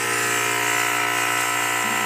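A fog machine runs close by, giving off a loud, steady electric hum and buzz with a constant tone while emitting smoke.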